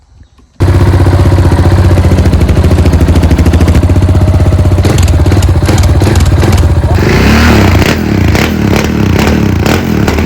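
A warmed-up motorcycle engine runs steadily and loudly up close after an exhaust line test, with a dense continuous rumble that grows rougher and more clattery toward the end, with no talking over it.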